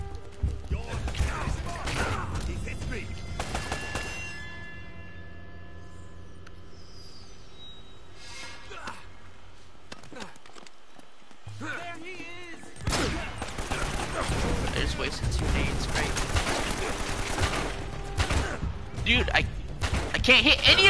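Rapid gunfire bursts from the PS4 game Uncharted, loud and dense in the opening seconds, then dropping away before heavy firing and crashing effects return for the second half, with a player talking over it.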